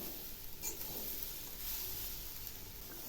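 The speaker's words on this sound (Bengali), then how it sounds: "এই নারকেলগুলো খুব একটা ভাজবো না, হালকা করে একটু ভেজে নেব।" Grated coconut with jaggery lightly frying in a pan for patishapta pitha, giving a steady soft sizzle with faint stirring scrapes throughout, close and fairly quiet.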